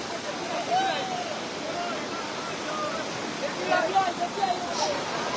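Floodwater from Mizoram rushes fast along a road at Gudam Ghat, a strong current making a constant broad roar. Faint chirps and other sounds rise over it now and then.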